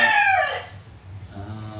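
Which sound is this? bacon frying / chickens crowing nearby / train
chickens crowing nearby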